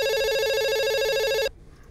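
A telephone rings loudly and close with a steady electronic trill for about a second and a half, then cuts off abruptly into quiet room tone.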